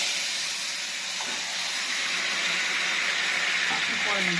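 Spices tempering in hot oil sizzle in a steady, bright hiss close to the pan, with a few faint crackles, while a home cook prepares lunch.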